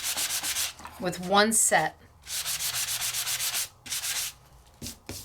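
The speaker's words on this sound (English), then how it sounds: "when I'm sanding, it's hitting those bumps" Sanding on a bumpy craft mat gives repeated rhythmic rasping strokes in quick bursts, close and fairly loud. A short spoken phrase breaks in between the bursts.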